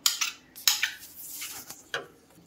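Food in a microwave dish being stirred with a metal spoon, giving several sharp scraping clinks in quick bursts, loud and close, with quieter gaps between them and no talking.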